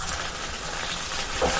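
Green chillies and tomatoes frying in oil for a village-style chicken liver sambar, giving a steady close hiss of sizzling that runs the whole short stretch with a slight swell near the end.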